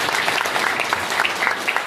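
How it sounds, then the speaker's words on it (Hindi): Audience at a Hindi kavi sammelan poetry gathering claps steadily and fairly loudly in a dense, continuous burst of applause that fills the whole moment without letup. "एक बार इनके लिए ताली बजा दीजिए"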